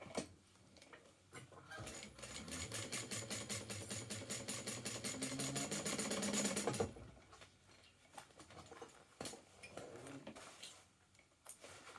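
A sewing machine stitches a bag lining panel, a fast steady mechanical rattle that runs for several seconds and then stops, followed by quieter handling clicks and fabric shuffling.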